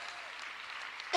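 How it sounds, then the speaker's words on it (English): Audience applause at the Philadelphia mayor's State of the City address, a steady wash of clapping from a crowd that swells briefly near the end. "Give that a round of applause."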